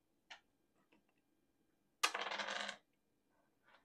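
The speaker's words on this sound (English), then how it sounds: "you're going to roll that dice" Dice are rolled in a short, sharp clattering burst lasting under a second, with a few faint clicks before and after and no talk over it.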